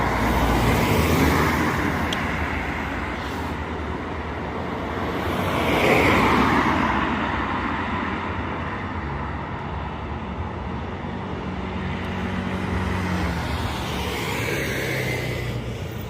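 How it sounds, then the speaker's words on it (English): A Metroline double-decker bus on route 186 arrives at Burnt Oak in a steady wash of road traffic, engine rumble and tyre noise swelling and easing with passing vehicles, no speech. "a double-decker Metroline coming in from somewhere"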